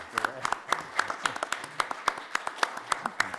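A handful of people clap at a county meeting in a steady flurry of sharp, close claps lasting several seconds.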